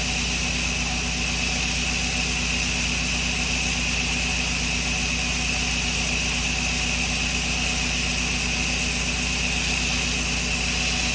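Steady, loud hum of a running machine with a Super Sud Sucker chemical injector pulling, an unbroken mechanical drone with a constant tonal whine and no voices.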